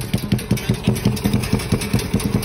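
A chrome-covered Yamaha Scorpio chopper motorcycle idles close by, its engine thumping in a steady, loping rhythm of evenly spaced pulses with no other sounds.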